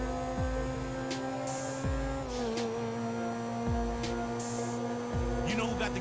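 A Turismo supercar in GTA 5 Online runs flat out, its engine a sustained tonal drone with repeated falling gear-shift sweeps every couple of seconds, steady and unbroken under a faint layer of hum.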